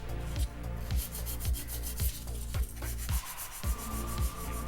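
A nail file rubbing back and forth over a hard gel nail coat to refine it, a rapid, even rasping rhythm of short strokes, close and fairly quiet, with no talking.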